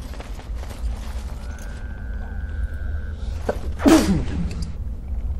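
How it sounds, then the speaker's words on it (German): A single loud sneeze bursts out sharply over steady low background hum and faint clicks, heard once and close during a German-language PC gaming session of Dragon Age: Origins. "sorry, musste mal kurz niesen"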